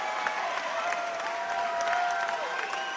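A crowd at a high school volleyball game between Las Lomas and Maria Carrillo applauds and cheers steadily during a timeout, a sustained, fairly loud wash of clapping from the gym stands.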